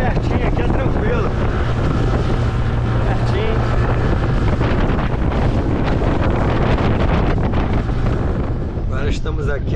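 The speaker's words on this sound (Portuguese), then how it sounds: "Olha o ventinho, hein?" Strong wind buffets the microphone at a river beach beside a yacht club, a loud continuous roar throughout, with people talking under it.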